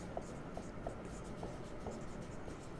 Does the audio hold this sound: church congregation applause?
no